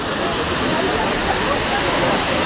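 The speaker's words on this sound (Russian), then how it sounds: "Вот он водопад, ради которого все сюда ломятся." A 400-metre waterfall in Goa, heard close as a loud, continuous roaring rush of falling water that fills the whole clip without pause.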